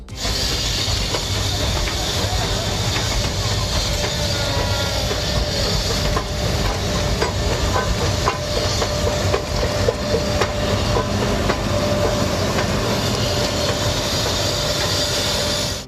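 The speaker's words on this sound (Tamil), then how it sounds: "மீண்டும் மலை ரயில் ஓடத் தொடங்கியுள்ளது." A mountain train rumbles steadily along the tracks, wheels clattering and squealing with a constant hiss, loud and close throughout with no voices.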